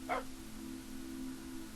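A pet dog named Wishbone in Minecraft gives one short, sharp bark at the start, then only a steady low electronic hum remains.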